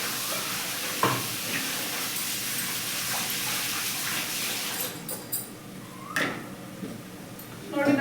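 Food sizzling in a pan in a home kitchen, a steady soft hiss of frying running throughout, with occasional clinks and scrapes of stirring layered over it.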